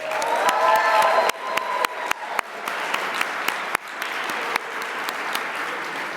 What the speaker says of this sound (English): let's all give them a quick round of applause